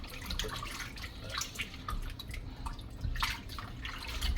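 Water running over raw beef neck bones in a pot with vinegar and half a lemon: a steady splashing, trickling wash with occasional louder sloshes, close by, with no speech.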